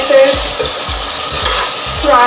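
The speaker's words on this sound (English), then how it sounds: "I'll stir my chicken very well and I'll let it" Chicken frying in a pan with ginger garlic paste is stirred, loud and close, with a continuous hiss of sizzling oil and rhythmic scraping sweeps of a utensil against the pan.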